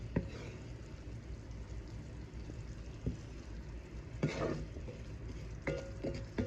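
A sugary sauce bubbling and thickening in a pan for Asian-style beef, a steady moderate sizzle with a few sharper scrapes and clacks from stirring spread through it.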